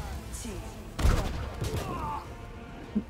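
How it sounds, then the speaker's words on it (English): A Magic Missile spell in Pathfinder: Wrath of the Righteous goes off as a sudden crackling burst with sweeping tones, followed by a quieter second flare and a small impact near the end. "Now use Magic Missile"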